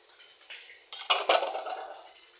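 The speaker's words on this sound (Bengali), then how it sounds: "এখন তেল দিয়ে দিব আর একসাথে মাখায় নেব তরকারিটা।" Curry being stirred together with freshly added oil in a metal pot, a few scraping, clinking spoon strokes building to louder clatters midway, close and alone.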